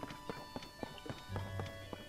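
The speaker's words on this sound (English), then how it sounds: "That's Zelda's golden horse" Hooves of Zelda's golden horse clip-clop in a steady walking rhythm in The Legend of Zelda: Tears of the Kingdom, crisp and fairly faint, with a soft low tone entering partway through.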